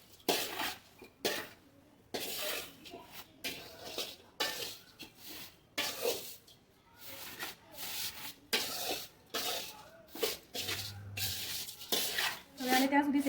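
A spoon scrapes and stirs papad poha as it roasts in a pan in an Indian kitchen, giving repeated short rubbing and clinking strokes in an uneven rhythm, fairly quiet and close.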